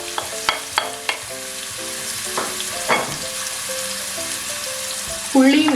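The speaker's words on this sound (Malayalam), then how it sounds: "ഉള്ളിയും ഇട്ട് കൊടുത്ത് നല്ലതുപോലെ ഒന്ന് വഴറ്റിയെടുക്കാം." Chopped carrots, celery and onion sautéing in olive oil, a continuous sizzle broken by a few sharp utensil taps early on and a louder scrape or clatter near the end.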